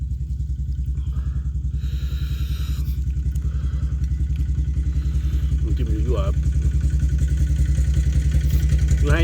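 A walking tractor engine chugs steadily and loudly up close throughout, with a rapid, throbbing low rumble and faint clatter.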